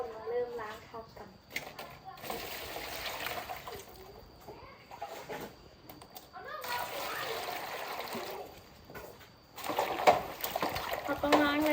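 Vegetables, bamboo shoots, being washed by hand in water, with repeated splashing and sloshing in bursts and trickles, close by, while people talk over it.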